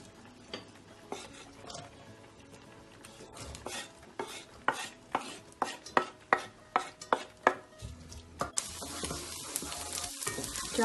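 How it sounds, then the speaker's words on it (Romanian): Onion sautéing in olive oil in a pan, with a soft sizzle under a run of regular sharp clacks, like a spoon or utensil striking the pan, and a louder hiss near the end. "să călim ceapa."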